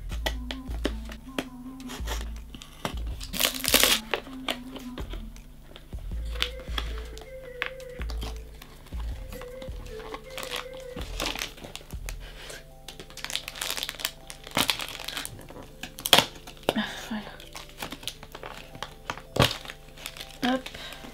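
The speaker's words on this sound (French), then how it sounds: "On va déballer tout ce qui reste" Doll accessories being unwrapped from crinkly plastic packaging for a Pullip Mayle doll, with bursts of close crinkling, rustling and tearing handled by hand, while someone speaks in French over much of it.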